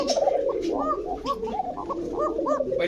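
A Kokka breed pigeon coos in a rhythmic run of soft, throaty, rolling calls, close and clear over a faint background murmur.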